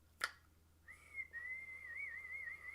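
Person whistling a faint, wavering sustained tune after a brief sharp click, heard alone with no talk.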